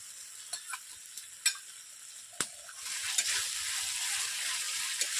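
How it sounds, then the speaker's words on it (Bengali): Spice paste with poppy seed paste for a prawn malai curry is stirred in a hot pan: several sharp spoon scrapes and clinks, then a rising, steady sizzle that fills the rest, close and without talk. "মশলাটাকে ভালো করে 5 মিনিট কষিয়ে নিয়েছি, আর নাড়াচাড়া করবো না।"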